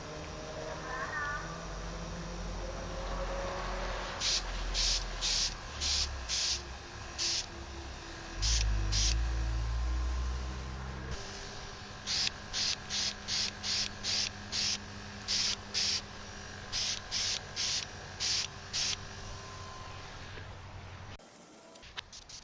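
A Rexley Rhinowisdom beauty airbrush sprays paint for model painting in repeated short bursts of airy hiss, loud and close, with low background noise and a brief low rumble partway through.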